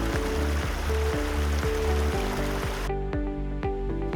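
Cooling water flowing through a flow monitor with a spinning impeller inside, a steady rushing trickle under a rhythmic mechanical whir and periodic ticking from the spinner, close and continuous, with the broad water hiss cutting out near the end.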